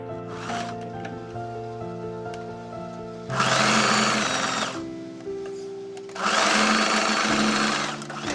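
A sewing machine stitches along a marked line at the collar of a traditional Kadazandusun garment. Two loud bursts of stitching rise over a background of sustained musical tones.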